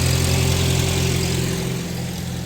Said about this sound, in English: This tractor we got for her because it's a lot easier for her to drive.